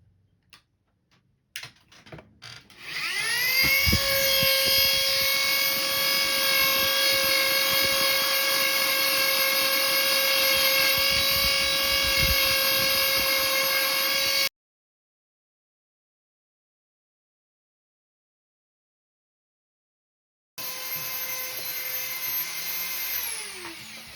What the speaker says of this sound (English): if you do have a Dremel tool with a polishing wheel, you might want to try to polish it up a little bit